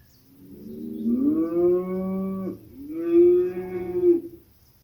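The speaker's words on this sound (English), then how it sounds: "What sound does a cow make?" A cow moo played through the speakers of a TV by an Android TV box: two long, loud, clear lowing calls in succession, the second slightly shorter, with no talk.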